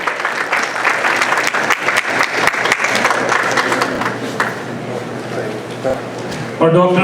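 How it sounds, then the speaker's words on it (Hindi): Loud, sustained applause from an audience at a Hindi poetry event, strong clapping that gradually eases before a voice speaks at the very end. "जोरदार तालियां सुषमा जी के लिए।"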